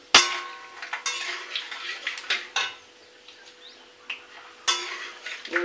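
Peanuts tossed into hot oil in a wok, with sharp metallic clanks of a spatula against the pan, scattered scrapes and a faint sizzle between strikes.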